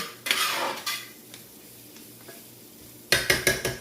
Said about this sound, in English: Now let me stir it because, you know, the seasoning will start to burn.